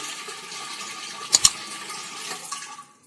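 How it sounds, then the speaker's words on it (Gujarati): Water runs steadily into a clay pot for a few seconds, a soft continuous trickle with a couple of brief clunks midway, fading out at the end. "આપણે પહેલાં આમાં થોડું પાણી ભરી લઈશું"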